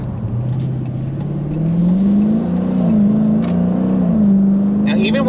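A 2016 Dodge Challenger R/T Scat Pack V8 engine pulls steadily under light throttle, its low drone rising gradually in pitch and loudness from inside the cabin, with a brief noise near the end.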